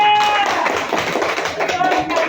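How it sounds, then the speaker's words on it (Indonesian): A classroom of students claps for a classmate in a short burst of fast, dense hand claps, with voices mixed in. "Tepuk tangan Winda."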